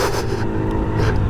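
A small 50cc scooter engine drones steadily while it is ridden uphill, a continuous close rumble with wind noise and no break through the short stretch.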